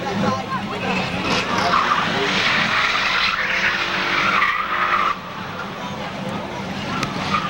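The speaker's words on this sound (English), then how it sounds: "Bob Moniz in the 1986 Nissan 300ZX out of Somerset, Mass. and the 1988 Firebird Formula for Keith Jepson out of Plymouth, Mass" Race cars, including a 1986 Nissan 300ZX and a 1988 Firebird Formula, roar around Seekonk Speedway, with loud continuous engine noise and tire skidding filling the whole stretch and a commentator talking over it.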